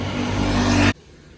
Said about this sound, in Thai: กลับรถเรากัน วันนี้เอาซันนี่มาใช้นะฮะ